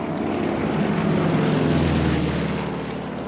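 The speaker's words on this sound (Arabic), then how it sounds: "العشرات من طائرات B-17 تطير في وضح النهار" Dozens of B-17 bombers flying in daylight, a loud continuous propeller-engine drone with a deep throbbing undertone that swells then eases.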